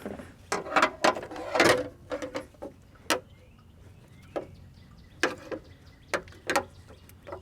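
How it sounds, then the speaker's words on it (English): Hands work a hose clamp back onto a hose in the engine bay of a GM Vortec V8 truck, giving scattered metallic clicks, snaps and scrapes in irregular bursts, close and fairly quiet with no speech. "Let's see if we can work the clamp back onto the hose here."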